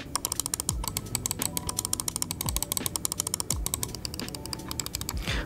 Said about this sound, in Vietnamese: như các bạn có thể nghe thấy là cái cảm giác bấm, cái tiếng bấm của nó rất là đanh